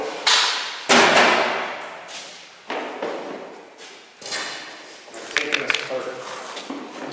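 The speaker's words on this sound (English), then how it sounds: "Opening the door." A door is opened with a series of loud, close thumps and sliding knocks, followed by lighter rattling, while people talk nearby.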